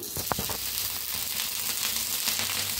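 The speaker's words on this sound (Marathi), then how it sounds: "तेल ओतल्यावर ओतायचं बघा थोडंसं पाणी." A splash of water hits a hot, oiled griddle and bursts into a loud hiss that settles into a steady sizzle lasting a few seconds.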